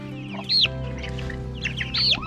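A young chicken, one of the growing chicks, clucks and squawks while held in someone's hands: two sharp, close calls about a second and a half apart over a steady low background hum.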